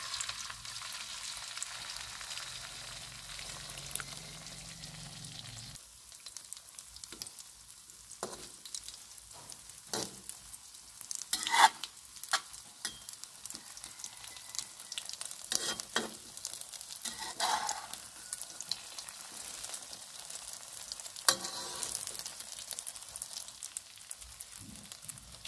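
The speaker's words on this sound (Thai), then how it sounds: "เจียวกระเทียมเหลืองหอมแล้วตามด้วยไข่เลยเจ้าไข่ลงไปเลย" Eggs poured into hot oil with golden fried chopped garlic for a Thai naem omelette, sizzling steadily with scattered clicks and stirring scrapes, moderately quiet and close, with no talk.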